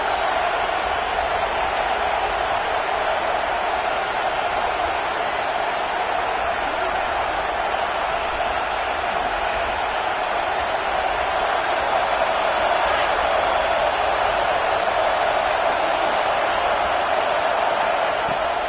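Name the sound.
Buckeye football stadium crowd cheering on third down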